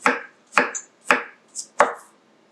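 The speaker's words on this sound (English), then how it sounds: "So we'll cut that real fast." A knife chops food on a cutting board in a teaching kitchen: five crisp, sharp knocks spaced about half a second apart, close and clear against silence.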